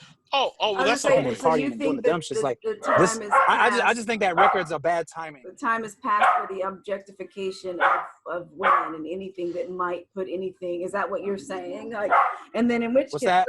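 Small dog barking and yipping repeatedly in the background of a room, intermittent and partly masked by continuous conversation between people talking.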